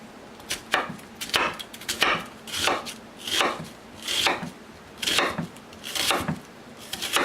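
An onion is diced with a knife on a cutting board, about nine rhythmic chopping strokes, each a crisp thud with a slicing rasp, close and steady with no talk.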